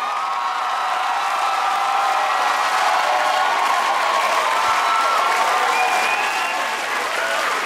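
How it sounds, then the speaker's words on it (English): Loud, dense applause and cheering from a comedy club audience welcoming a crew onstage, a steady roar of clapping with scattered whoops held at full strength throughout. "I'd like you all to give a big round of applause to a crew I know as Sausage Party"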